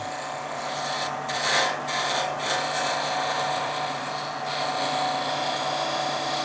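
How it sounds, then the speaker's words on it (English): A skew chisel scrapes a turning piece of wood on a lathe, giving a steady close rasping drone with a few brief louder scrapes near the start. "that is a skew chisel, because we have got a straight edge. And I'm just going to scrape with that, like so"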